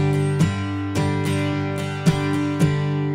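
Acoustic guitar strummed in a particular strum pattern, a steady rhythmic groove of repeated down and up strokes with sharper accented hits every half second or so, close and clear with no voices.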